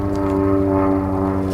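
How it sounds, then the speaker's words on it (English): A Giles G200 aerobatic plane in an aerobatic competition flight, heard as a loud, steady propeller-engine drone with strong tonal harmonics, continuous and alone. "Taylor in the Giles G200 is beginning sequence B, which begins with the square loop"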